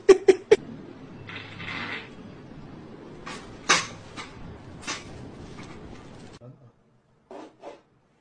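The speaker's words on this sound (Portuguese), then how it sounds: "A cadeira com barulho aqui." A chair creaks and squeaks in several short, separate bursts up close, with rubbing and knocking in between and a woman's speech around them.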